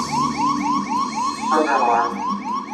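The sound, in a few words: Apollo lunar module onboard computer 1202 alarm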